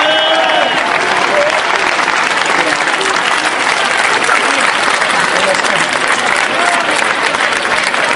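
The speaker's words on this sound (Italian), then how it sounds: "chiedo un grande applauso per Valentina" A crowd at a festival stage event gives sustained, loud applause for Valentina, a thick, unbroken wash of clapping with a few faint voices and cheers mixed in.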